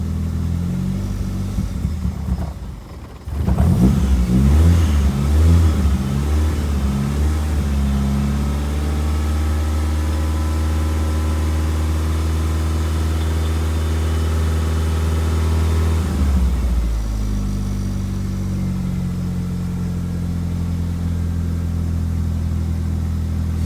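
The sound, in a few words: Mazdaspeed car engine starting and running after oil change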